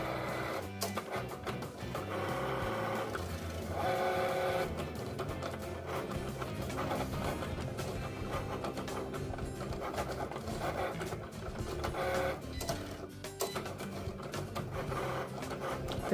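A Cricut cutting machine works through a layered card project, giving a steady mechanical whir with rapid clicks and short shifting motor passes, continuous and fairly close.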